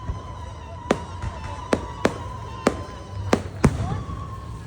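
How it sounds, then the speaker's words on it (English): Fireworks bursting over a northern Thai festival, six or seven sharp loud bangs spaced irregularly about a second apart over a steady crowd murmur. "an impressive display of fireworks that naturally everyone and their dog is recording"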